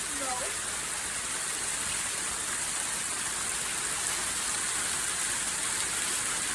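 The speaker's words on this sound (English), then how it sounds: "Wow, we haven't had hail in a long time," Hail pelting down steadily during a long hailstorm with thunder about, a dense, constant hiss and patter that stays even throughout.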